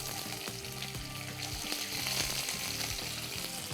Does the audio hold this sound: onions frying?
yes